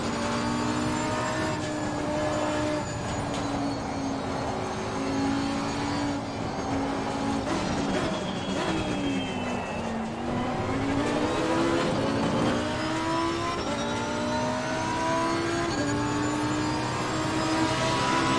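Race car engine in the Assetto Corsa Competizione video game, a loud continuous drone revving up and down through gear changes with a brief dip as it brakes, steady and close for the whole stretch with no talk.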